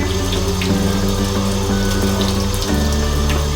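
Tap water runs steadily into a sink while a makeup brush is rinsed under the stream, a close continuous gush with a low pump-like hum shifting slightly near the end.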